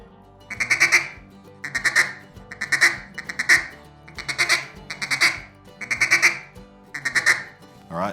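Mallard duck call blown in a stutter feed, imitating a hen mallard sitting on the water: about eight rapid bursts of quick, raspy quacks in an even rhythm, loud and close, no talking.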